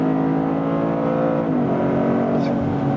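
A 300-horsepower three-cylinder Toyota GR Corolla pulls steadily on a race track, its engine a loud, continuous buzzing drone heard from inside, with a brief dip in pitch partway through.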